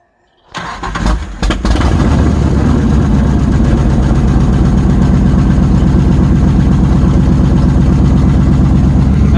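A V8-swapped Chevrolet S10 pickup with a new 5-speed transmission cranks briefly, then fires and settles into a loud, steady, rumbling idle close by, with no exhaust fitted and nobody talking.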